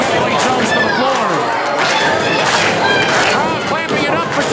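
Wrestling crowd cheering and chattering for Dillon Daniels during a match, a dense, steady roar of many voices filling the arena, with a commentator talking over it throughout.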